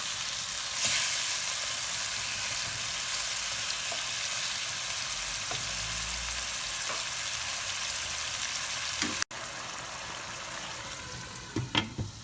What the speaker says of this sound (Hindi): हम अच्छी तरह से फ्राई करेंगे जब तक ये अच्छी तरह टेंडर हो जाए।